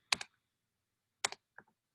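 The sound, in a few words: typing a university name on a computer keyboard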